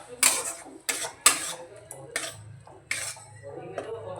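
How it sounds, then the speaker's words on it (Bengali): A spoon clatters and scrapes against a pan in several sharp, separate strokes while a fish mixture with yogurt is stirred, close and fairly quiet with soft gaps between hits. "একটু নাড়াচাড়া করে নিচ্ছি"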